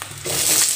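Onions tipped into a hot kadai of oil with chillies, a short crunchy rustle swelling into a brighter hiss as they land.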